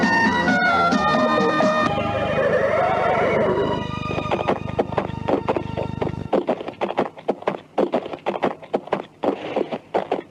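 A horse gives a loud, long neigh with a quavering whinny, then hooves clip-clop in an uneven, close rhythm of hard knocks through the rest of the scene.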